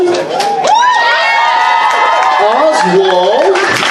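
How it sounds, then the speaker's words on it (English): A crowd at a dance-battle event at the FurSquared 2020 convention cheers and whoops loudly, excited shouts and high-pitched yells layered over scattered clapping, sustained throughout. "Can we get a huge round of applause for Oswald?"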